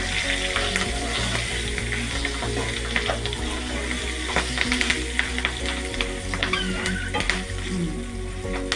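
Steady loud sizzling of tempering spices with asafoetida frying in hot oil for pulihora, continuous throughout with occasional sharp crackles and pops, close up, no talking.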